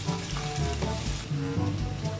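Mushrooms sauté in a pan with melted butter, garlic and onion, sizzling steadily and close, with occasional stirring scrapes and soft bubbling pops layered over the continuous hiss.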